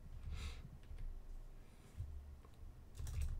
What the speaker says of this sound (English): And if you type Citrix Receiver